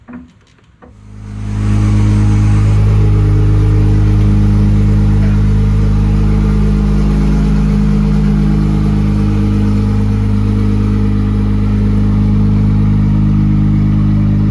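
A loud, steady truck engine drones at high revs after a brief quieter start, holding a constant roar throughout.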